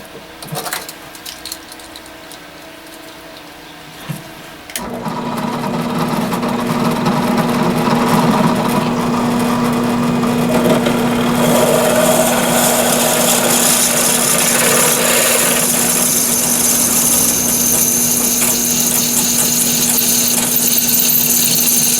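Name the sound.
drill press drilling brass rod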